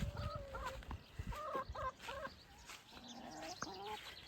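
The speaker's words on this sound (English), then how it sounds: "we have our chicken" Backyard poultry flock of chickens clucking in a series of short, repeated calls at close to middle distance, with no talk.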